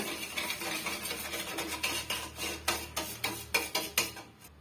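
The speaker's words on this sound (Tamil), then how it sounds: "இப்போ இது எல்லாம் சேர்த்து நல்லா வந்து கரையிற வரைக்கும் ஒன்றா மிக்ஸ் ஆகிற வரைக்கும் நீங்கள் இது போல் மிக்ஸ் பண்ணி விட்டுக்கோங்க" Ingredients for maida flour biscuits are mixed together in a bowl, a quick rhythmic series of scraping, rubbing strokes up close, growing sharper toward the end, with no speech.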